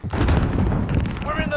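A grenade blast in Call of Duty: Modern Warfare lands as a loud, booming low rumble that fills the short moment, with a tonal radio-like voice cue rising near the end.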